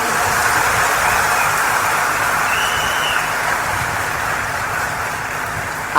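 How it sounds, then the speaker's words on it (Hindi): An audience claps together at a gathering where a little girl stands up front. The applause is steady, dense and fairly loud, running evenly for about six seconds. "एक बार ताली बजाओ झूम के।"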